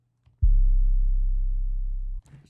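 A deep, buzzing synth bass note holds steadily for nearly two seconds, loud and isolated, then cuts off abruptly.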